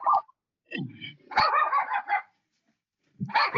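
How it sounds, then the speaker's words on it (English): A small chihuahua barks in a few sharp, yappy bursts close by, with short pauses between them and no talk over the barking. "I can tell it's a chihuahua by the barking"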